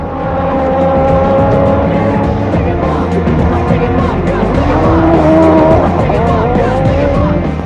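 Cars in a drag race at the Lopburi airfield make a loud, sustained engine roar with rising and falling pitch sweeps and tire noise. A commentator talks over it.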